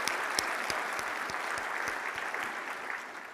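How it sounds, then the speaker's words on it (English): A conference audience of surgeons at a presidential address applauds, with steady, moderately distant clapping spread through the hall and a few sharper individual claps standing out. "Let me clap."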